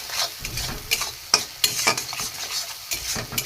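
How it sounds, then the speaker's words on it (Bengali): Spice masala sautéing in a pan for a pointed gourd and prawn kebab, with steady sizzling and repeated scraping stirs, close up and without any talking. "ভালো করে কষিয়ে নেব"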